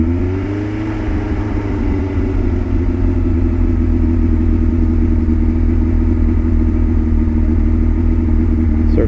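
A 1977 Kawasaki KZ1000 restomod motorcycle idles after a true cold start following weeks of sitting, its engine firing up with a brief rev and then settling into a steady, close, loud rumbling idle.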